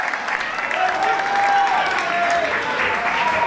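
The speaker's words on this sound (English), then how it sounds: "I just want everybody to give Willi a round of applause." Steady crowd applause fills a fundraiser event honoring a dance icon, loud and continuous throughout with voices mixed into the sustained clapping.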